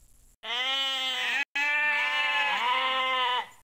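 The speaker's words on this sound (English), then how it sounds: "His sheep were roaming the highway." Sheep roam a highway after a storm in the PC game Lassie, one long, loud bleat, then a brief break and a second drawn-out wavering bleat, close and clear.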